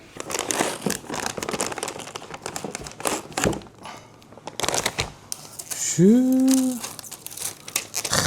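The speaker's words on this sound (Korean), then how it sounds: "이때가 제일 신나는 것 같아 비닐 벗길 때야" Protective plastic film is peeled off an RTX 5080 Vanguard graphics card during a PC build, with close, crisp crinkling and tearing rustles and a brief voiced sound partway through.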